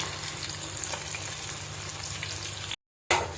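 Mackerel fish frying in a pan over a low flame, a steady close hiss and crackle of oil with a low hum underneath, broken by a brief gap of silence near the end.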